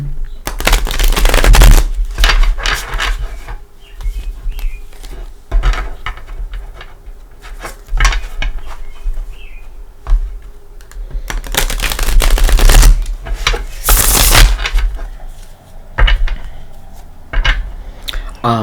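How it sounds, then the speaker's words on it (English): Tarot cards being shuffled in repeated bursts of rapid riffling and flapping, close and loud, separated by quieter pauses. "Let's give them a shuffle or two."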